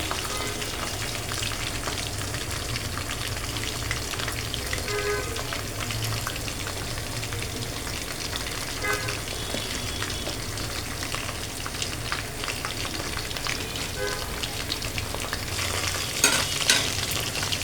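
Chicken pieces fry in a pan with a dense, continuous sizzle like steady rain, with occasional scrapes and pops and a louder crackle near the end.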